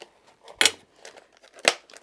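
A pair of scissors from a small toolset being handled, giving two sharp metallic snips or clacks about a second apart amid faint rustling, close and fairly loud.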